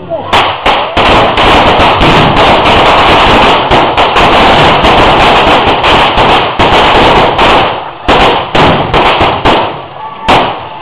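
Guns fired at will in a celebration, a dense barrage of loud, close shots cracking continuously, with sharper separate reports near the start and end and talk buried beneath.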